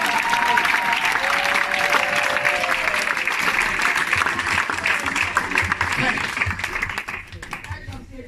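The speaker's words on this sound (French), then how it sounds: "On acclame très fort le Seigneur." A church congregation at a worship service applauds and cheers loudly, dense sustained clapping and crowd noise with a voice speaking over it, fading slightly near the end.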